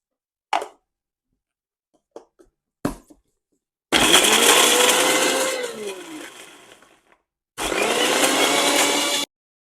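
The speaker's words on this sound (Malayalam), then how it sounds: "അതിൻ്റെ കൂടെ ഒരു 12 കാഷ്യൂനട്ട് ഇട്ടിട്ട് നമുക്ക് നല്ല ഫൈൻ പേസ്റ്റായിട്ട് അരച്ചെടുക്കാം." A kitchen blender grinds boiled spinach and a dozen cashews into a fine paste in two loud, steady whirring bursts, the first tapering off as the motor winds down, preceded by a few faint clicks and knocks.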